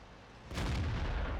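In World of Tanks, a tank cannon fires and hits a turret with one sudden heavy boom that rings on as a loud, broad rumble.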